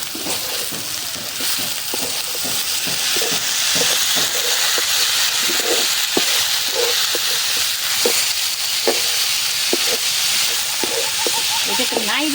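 Mustard greens sizzle and fry in a hot pan with oil and salt, a steady loud hiss with scattered crackles and stirring scrapes running throughout.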